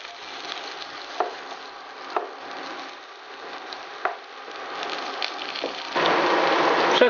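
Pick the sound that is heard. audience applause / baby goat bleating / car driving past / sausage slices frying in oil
sausage slices frying in oil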